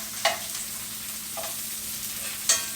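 Pre-cooked meat and onions brown in a frying pan with a steady close sizzle, broken by two sharp clicks or scrapes of a utensil in a short stretch.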